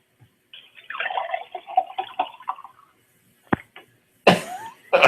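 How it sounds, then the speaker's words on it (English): Water poured into a glass, a bubbly gurgling stream lasting about two seconds, followed by a couple of short knocks and a brief louder splash near the end, close and fairly quiet. "that's me pouring another glass of water"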